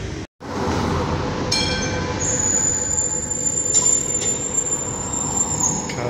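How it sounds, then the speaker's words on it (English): A tram rolls past on rails with a loud rumble and sustained high-pitched wheel squeal, continuous and close. "Cars in the way of the tram."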